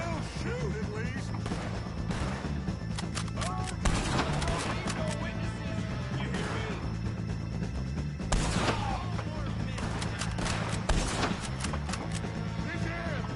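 Gunfire in Red Dead Redemption 2: repeated sharp shots and heavier booms scattered through a loud firefight, with bursts clustering around four, eight and eleven seconds over a constant background din and voices.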